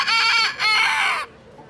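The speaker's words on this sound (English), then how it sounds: "You're a pretty rooster." A rooster crows loudly and close by at a fair, a single drawn-out cock-a-doodle-doo with a brief break midway, then it fades into quiet.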